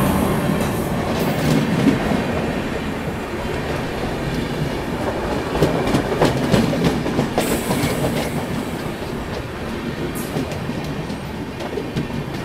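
The Ganga Kaveri Express, an Indian passenger train, departs and rolls steadily, with continuous loud wheel rumble, rhythmic clickety-clack over rail joints and occasional metallic squeals, heard from on board with no voices.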